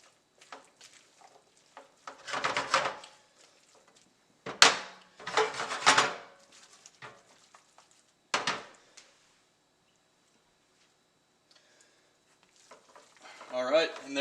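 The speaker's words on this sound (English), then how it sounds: "Stirring pretty quickly helps prevent the egg from turning into scrambled eggs" Bursts of quick whisking and scraping as egg yolk carbonara sauce with squirrel meat is stirred in a pan, short vigorous runs separated by pauses, close and moderately loud.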